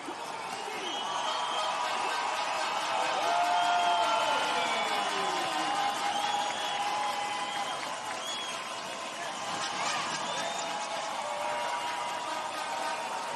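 Crowd of Brazilian fans cheering around the podium at a men's U23 cross-country mountain bike World Cup in Araxá, Brazil, a steady wash of voices and applause with whistles, amid distant announcer talk over a public address.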